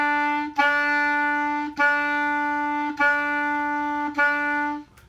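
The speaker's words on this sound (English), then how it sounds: "just tapping the back of the reed to get it to stop vibrating for a second" A clarinet holds one sustained note that breaks into separate tongued attacks, with short gaps where the reed is stopped and restarted, about four even pulses, clear and close with no talking.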